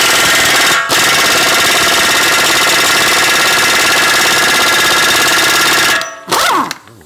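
A power impact tool rattles loudly and steadily on a 32 mm front-end axle nut for about six seconds, with a short break near the start and a brief final burst after it stops.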